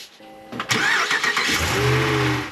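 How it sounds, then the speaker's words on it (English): A 2013-2018 Dodge Ram 1500 truck engine cranks briefly and catches, rising to a loud rev before settling into a steady idle, heard close in a garage setting with no talking. "Now I'm gonna start the truck."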